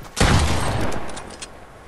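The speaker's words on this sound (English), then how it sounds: "It was the shotgun." A single loud shotgun blast in the Fortnite video game goes off up close, then its roar and low rumble trail away over the next second or two.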